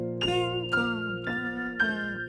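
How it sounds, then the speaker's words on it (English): Bright, tinkling bells ring out in a gospel reharmonization of a worship song, struck in four separate hits about half a second apart, each decaying over sustained music. "And then, you know, bells."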